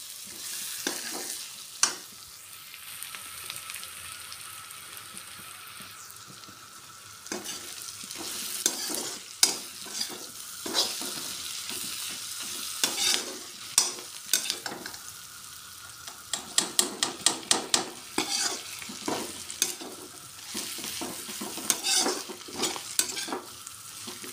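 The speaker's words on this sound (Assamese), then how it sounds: "এতিয়া মই লৰাই ল'ম হালধি দি পিনি" Jackfruit curry with turmeric is stirred in a frying pan. A steady hiss of frying runs throughout, and spatula scrapes come in bursts, growing busier and more rhythmic toward the end. No one speaks.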